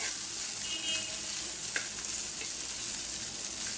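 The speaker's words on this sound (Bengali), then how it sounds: "এটা গুড়া চান্দা মাছ একটু ভাজা ভাজা করতে হয়" Small chanda fish fry in hot oil with a constant, bright sizzle, with occasional soft stirring clicks close by and no talking.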